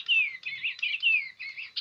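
Electronic Digi bird toy chirping and tweeting in quick repeated phrases, bright synthetic bird-like calls close by with no talk.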